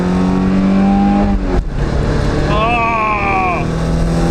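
A Porsche 944 engine roars loudly and steadily at a drag strip, its pitch rising under hard acceleration, with a brief dip midway and a steady engine drone throughout.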